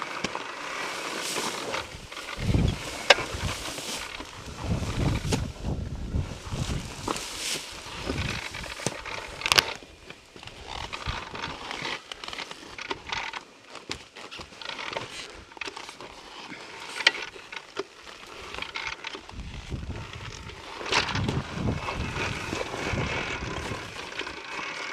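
KTM Freeride E-XC electric dirt bike ridden along a trail, a continuous whining drone with rising and falling surges, plus scattered knocks and rattles, with no talking.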